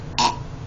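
A single short, fairly loud burp from a person, heard alone against a quiet background.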